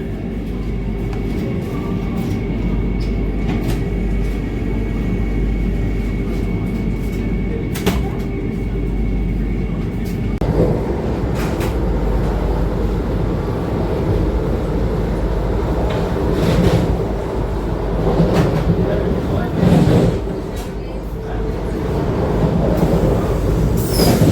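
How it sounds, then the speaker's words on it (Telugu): A Vande Bharat Express train rumbles steadily as it pulls away from Rajahmundry station, low wheel and engine noise building, with occasional clanks and a faint squeal; no talking. "అండ్ చూడండి మన ట్రైన్ అయితే బయలుదేరి రాజమండ్రి స్టేషన్ నుంచి అండి"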